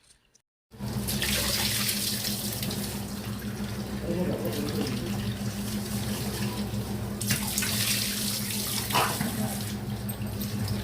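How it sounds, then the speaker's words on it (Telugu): A kitchen tap runs hard and steady as fish pieces, earlier rubbed with salt, turmeric and yogurt, are rinsed beneath it: a loud continuous gush starting abruptly after a short silence, with slight splashing shifts as the pieces are handled. "ఆ పసుపు నీళ్ళన్నీ వెళ్ళిపోయేదాకా మనం శుభ్రం చేసుకోవాలండి."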